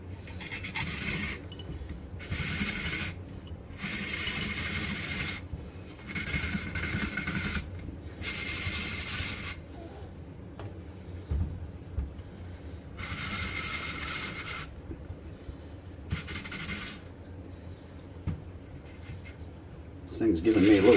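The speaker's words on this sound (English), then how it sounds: "I'm going to grind up just a couple potatoes for me and my wife" Hand-cranked grinder shredding a couple of potatoes for hashbrowns, giving repeated rasping scrape bursts, about a second or two each with short pauses, close and fairly loud over a low steady background hum.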